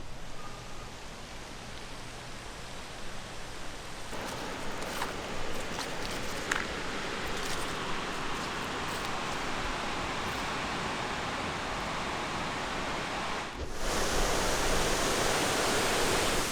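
Holley Falls in New York roars as a steady, broad rush of falling water heard up close, with faint footsteps and rustles mixed in and a brief dip before the roar swells louder.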